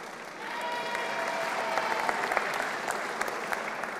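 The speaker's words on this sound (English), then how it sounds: "You can clap, but it doesn't count against my time, okay?" Sustained crowd clapping at the Green Line transit grand opening, building after a brief quieter start into a thick, even roar of many hands with occasional sharper individual claps.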